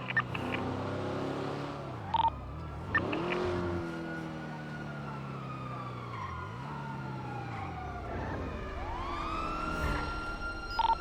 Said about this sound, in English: Lights and sirens off.